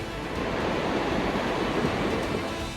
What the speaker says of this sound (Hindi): उफान मारती लहरें जहां से गुजर रही हैं, भारी भरकम घरों तक को तिनके की तरह अपने साथ बहा ले जा रही हैं।